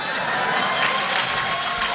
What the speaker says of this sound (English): Oh, look how many people clap for me